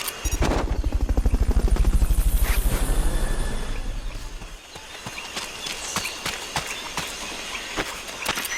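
A loud helicopter's rotor thumps rhythmically up close for a few seconds, then fades into the distance under scattered clicks and footstep-like sounds, in the video game Metal Gear Solid: Peace Walker HD.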